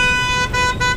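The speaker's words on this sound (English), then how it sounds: "Stop honking the horn" A car horn blares in city street traffic in Saigon, holding one long loud tone with two brief dips, over the steady rumble of nearby vehicles.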